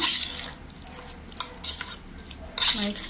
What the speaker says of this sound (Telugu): ఈ స్పైసెస్ అన్నీ మనం చక్కగా కలుపుతున్నాం కదా